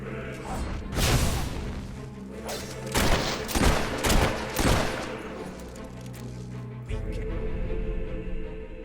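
Gunfire in the Xbox 360 game Fable 3, set in a desert: a couple of loud, sharp shot bursts with ringing tails, then a steadier low rumble toward the end.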